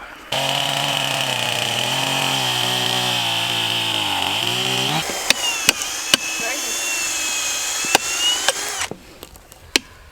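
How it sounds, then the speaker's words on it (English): A chainsaw roars steadily, its pitch dropping as it bites into wooden fence boards for an H-brace, then revving higher before cutting off with scattered clunks. "Both boards set, now it's time to use a chainsaw."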